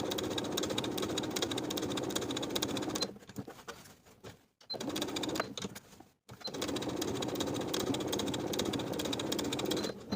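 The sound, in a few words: sewing machine edge stitching along fabric fold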